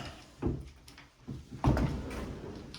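A pocket door sliding in its wall cavity inside a house, heard as two soft rolling thumps about a second apart, the second longer and fuller, with quiet room noise between.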